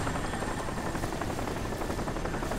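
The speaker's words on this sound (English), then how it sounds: "I can't even see the helicopter. So I don't know what's going on. I just can hear him hovering around us somewhere." Helicopter hovering out of view in the video game Crysis, a steady loud rotor drone filling the whole moment without letup.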